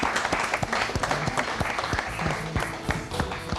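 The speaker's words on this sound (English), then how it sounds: "Let's have a big round of applause for them." Steady applause from a studio audience at a science quiz show for a school quiz team, dense overlapping claps sustained close and loud throughout with no talk over it.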